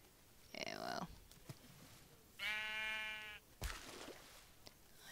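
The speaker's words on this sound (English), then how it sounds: "Lots of sheep, which is, like I said, is very weird for a swamp in my opinion." Several sheep bleat in a swamp area of the video game Figment's World of Pigment, a bright harmonic bleat about a second long standing out clearly between stretches of someone talking.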